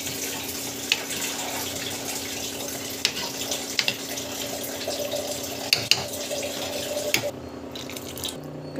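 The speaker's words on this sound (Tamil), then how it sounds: "இன்னும் கொஞ்சம் தண்ணி போட்டுக்கோங்க." Water runs and splashes steadily into a cooking pot for carrot rava, a continuous liquid rush with scattered drips and clinks. It stops near the end, leaving quieter room sound. Nobody speaks.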